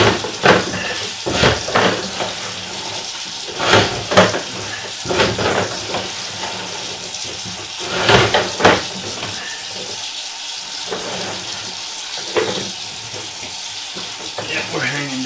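Water pours and splashes in uneven bursts as it rinses an inspection camera lens hanging down into a pipe main, rising and fading over steady background hiss.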